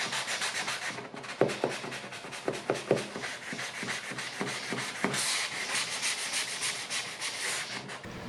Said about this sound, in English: I'm doing a quick sanding with my 220 grit sand sponge